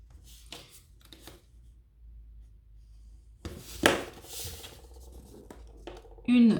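Scissors cut a sheet of paper for an origami Christmas star: a few short snips early on, then a longer crisp cutting stretch, close against a quiet room.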